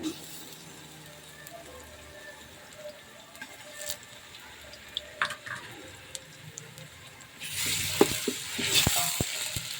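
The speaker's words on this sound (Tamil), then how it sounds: "வெங்காயம் நல்லா கொஞ்சம் ப்ரௌனாக வதங்கிருச்சுல இஞ்சி பூண்டு போடணும்" Onions with ginger and garlic sautéing in a pot over a wood-fired stove for chicken biryani, a faint soft sizzle with scattered ticks and scrapes that swells into a louder, brighter frying hiss near the end.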